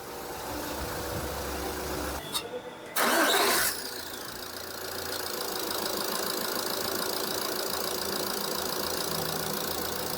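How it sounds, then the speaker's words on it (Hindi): A Jeep Compass engine, just fitted with a new fuel pump, catches with a brief loud burst after a short starting crank, then settles into a steady, even idle that runs alone to the end. "एज यू कैन सी गाड़ी सही आइडल कर रही है।"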